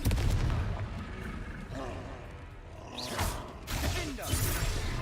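A Confringo spell blast in the Hogwarts Legacy video game, a fiery whooshing explosion with crackling bursts mixed into ongoing combat effects, while a voice shouts over the action.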